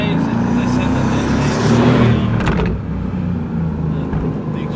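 A Mercedes-AMG GT R on a track gives a deep, steady exhaust drone that swells briefly and then eases, loud and close, with voices talking over it.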